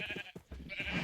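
Sheep in the Minecraft video game bleat faintly in a barn, with a couple of short wavering calls over a quiet background.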